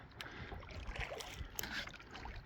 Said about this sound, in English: So we're out here paddling on Putnam Pond.